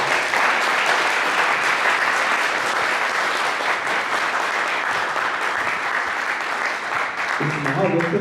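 Loud, sustained applause from an audience at a university lecture hall event, dense clapping across the whole stretch, with a voice speaking over it near the end.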